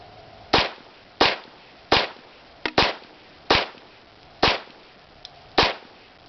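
Eight sharp 9mm pistol shots from an HK P30L fitted with a rail-mounted compensator, firing cheap 115-grain ammunition, each crack spaced under a second apart and ringing briefly, close and loud with no talking.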